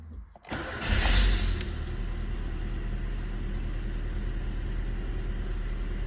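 A 1999 Rover 420i manual hatchback cranks briefly and fires, its loud start burst settling within a second into a steady, even idle that carries on alone.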